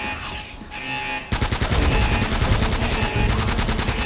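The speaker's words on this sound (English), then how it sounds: "Shooting in the general direction of the zombies might help." Rapid automatic gunfire in Uncharted as zombies close in, a dense rattling burst that starts abruptly after a brief quieter stretch and keeps hammering steadily, loud and close.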